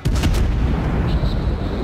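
Naval gun salvos from a ship in World of Warships, a French light cruiser Emile Bertin firing: a few loud booming shots at the start with sustained rumbling battle noise continuing throughout, no talk.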